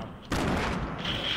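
A grenade blast and a burst of gunfire in a Fortnite 2v2 Battle Royale match hit suddenly and loud after a quieter moment, with a sustained noisy roar and some voice chat mixed in.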